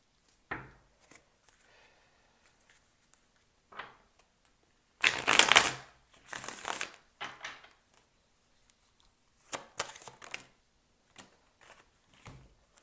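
Tarot cards are shuffled by hand in short, soft bursts of riffling and sliding, with one louder flurry in the middle and quiet pauses between the bursts.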